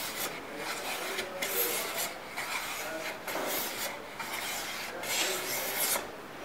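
An HNT Gordon A55 smoothing plane takes wispy, fine shavings from wood in repeated short rasping strokes, each a soft, close scrape with a regular back-and-forth rhythm and no talking.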